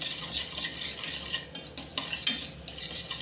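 Besan being stirred with salt and turmeric in a bowl, a close, soft scraping and clinking of a spoon against the bowl with a few sharper knocks, no talking.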